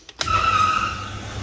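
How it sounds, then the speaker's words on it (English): Large sirocco cooling fans in an engine dyno booth switch on with a sharp click, then settle into a steady, loud whirring hum with a sustained whine that carries on unbroken. "I'm going to turn the fans on here so we get a bit of extra cooling."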